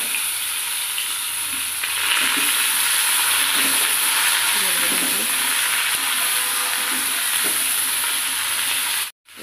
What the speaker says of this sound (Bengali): পাঁচফোড়ন দিয়ে দিলাম। বেগুন আর ডাঁটা কাটা ছিল তেলের মধ্যে।